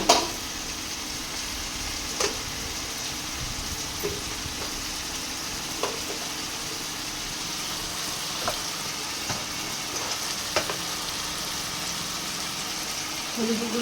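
Ginger and garlic paste sizzles steadily in rendered mutton fat, a constant frying hiss with a few soft clicks of stirring scattered throughout.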